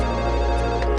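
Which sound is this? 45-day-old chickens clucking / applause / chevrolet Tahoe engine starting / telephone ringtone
telephone ringtone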